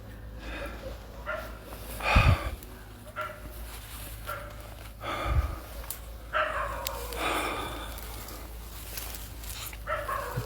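A dog barks repeatedly at night outdoors. The barks are moderately distant and come in irregular bursts over a quiet background hum, with a few faint voices.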